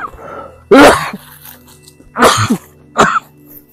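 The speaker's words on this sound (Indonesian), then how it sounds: "Mulai batuk." Three harsh coughs, close and loud, spaced about a second apart with quiet breathing between.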